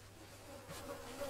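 Buzzing bee or wasp in the Bigfoot horror game, a steady insect drone at low level that grows slightly louder toward the end, alone without talk.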